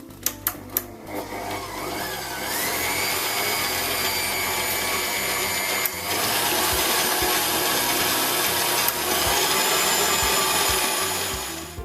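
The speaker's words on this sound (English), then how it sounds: "if you're just using a hand mixer, just whisk this until the gelatin dissolves" Electric hand mixer with a whisk attachment whisking a gelatin mixture. A few sharp clicks come first, then a steady, fairly quiet motor whir that runs on evenly.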